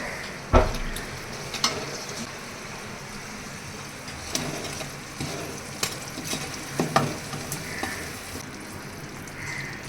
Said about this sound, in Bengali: এবার এগুলো সবগুলো ভেজে নিয়ে তারপর তোমাদেরকে দেখাচ্ছি